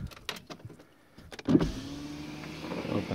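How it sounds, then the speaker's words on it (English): An Audi A2 power window motor whirs as the glass opens, a steady electric hum after a few clicks and knocks, close inside the car. "Open the window because it's very, very hot."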